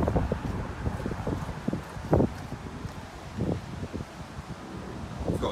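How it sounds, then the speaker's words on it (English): Gusty wind buffets the microphone outdoors beside a VW Crafter van, a continuous rumbling roar with sharper bursts, close and fairly loud, no talking. "It is quite windy out here today,"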